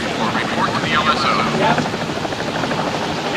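Helicopters landing on an aircraft carrier flight deck in 1975 give a steady, loud rotor and engine roar, with radio-style voices talking over it.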